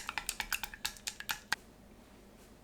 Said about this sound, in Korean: 계란 3개, 고운 소금 1꼬집, 후추 1꼬집 섞어주세요.